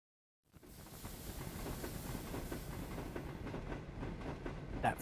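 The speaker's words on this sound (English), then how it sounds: "We catch the train one final time just east of Deadwood on a sweeping curve." A train on the AS&E Railroad near Deadwood, moving around a sweeping curve. A steady rumble and clickety-clack of wheels sets in after half a second and continues loud and close with faint hiss.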